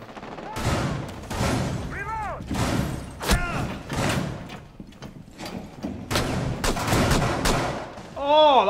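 Gunfire in Rainbow Six: Siege ranked play, loud bursts of rapid shots and single cracks with thuds between them, while a voice talks over the action.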